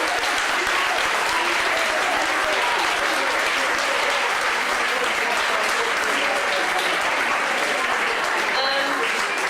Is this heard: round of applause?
yes